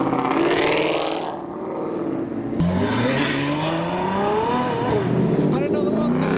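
Lamborghini Aventador S engine revving at a car show, exhaust roaring loud and rising in pitch as it accelerates away, with crowd voices and cheering mixed in.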